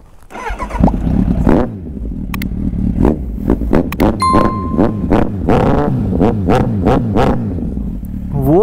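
A streetfighter motorcycle fitted with a whistle revs hard in repeated sharp throttle blips, rising and falling quickly, loud and close, with short gaps between revs.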